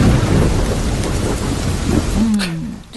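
A loud, close thunderstorm sound effect in a radio show jingle, with a steady rush of heavy rain and a rumbling thunder roll, ending in a short synthetic swoop.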